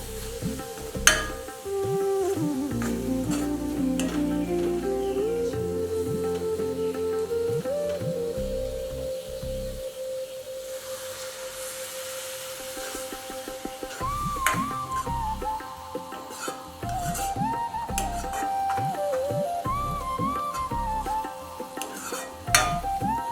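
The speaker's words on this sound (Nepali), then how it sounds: "अब यसलाई राम्रोसँग मिक्स हुने गरी चलाउँदै पकाउनु पर्छ" Tomato, green garlic and a corn-and-wheat flour mix get stirred in a pan, soft scraping and faint sizzle running under a melodic tune throughout, with scattered clinks from the utensil.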